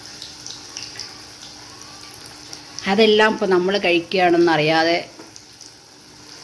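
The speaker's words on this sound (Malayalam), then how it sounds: "എണ്ണയിലിട്ട് എണ്ണയിലിട്ട് തിളയ്ക്കുന്നു കണ്ടോ?" Chillies fry in boiling oil for bajji with a steady, soft sizzling hiss that runs through the whole clip, partly covered by a person talking nearby in the middle.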